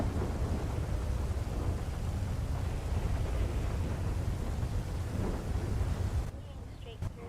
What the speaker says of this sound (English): I wish GTA had a setting for like weather volume, because the thunderstorm is really loud.